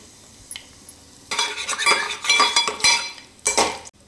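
Urad dal, cumin, curry leaves and asafoetida hit hot oil in a pan for a ridge gourd chutney tempering, giving a close, bright crackling sizzle with spoon scrapes and clinks against the metal, starting quietly then bursting loud.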